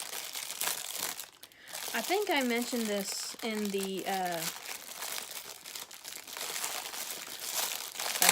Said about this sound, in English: if I can open this plastic bag